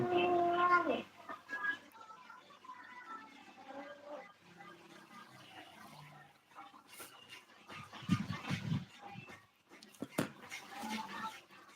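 A dog howls close by during a live broadcast, a series of drawn-out, wavering whine-like tones that rise and fall, loudest at the start, with some background voices and occasional clatter between the howls.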